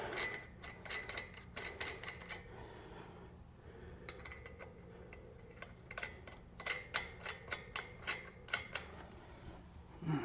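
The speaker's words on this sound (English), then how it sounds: "I'm going to turn my torque wrench up to about 150, 151 foot-pounds" A torque wrench clicks and ratchets on the wheel lug nuts of a Cybertruck during a wheel spacer install, a series of quiet, sharp metallic ticks in irregular bursts.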